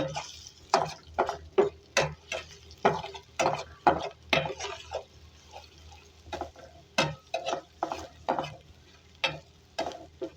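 Spices and onion fry in a pan for restaurant-style dal, stirred in a steady rhythm of scraping spoon strokes over a soft sizzle, close and moderately quiet, without speech.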